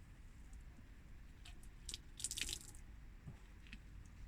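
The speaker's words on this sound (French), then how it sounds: "On va le passer sous l'eau du robinet," A spa filter is rinsed under a running tap, giving a soft steady trickle with brief splashy spatters midway, quiet and close with no talking.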